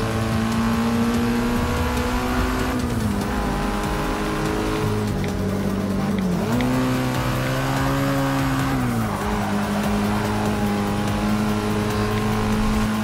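A Nissan race car in Forza 6 drones with a steady engine tone that rises and falls through gear changes, with tire squeal and skidding on corners, continuous and loud.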